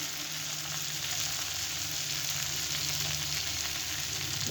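Turmeric, cumin and coriander powder fry in hot oil in a pan, giving a dense, even, close sizzle that holds steady and alone for the whole stretch.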